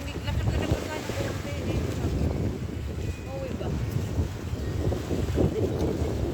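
Choppy sea waves wash at Galali bay in Bahrain, a continuous rough surf mixed with heavy wind buffeting the microphone, while a voice talks.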